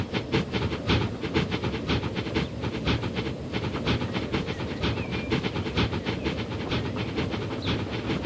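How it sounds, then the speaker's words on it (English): A train rolls past in the background of the Transport Fever game's Greater London map, a steady rhythmic clickety-clack of wheels over rail joints with a hissing rumble, continuous and even throughout without any voices. "Oh, is that a train in the background?"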